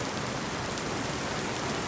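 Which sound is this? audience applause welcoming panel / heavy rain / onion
heavy rain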